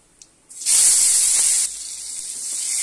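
Bay leaf and dried red chilli drop into hot oil in a pan and burst into a loud, steady sizzle that stays strong, then eases slightly while frying continues.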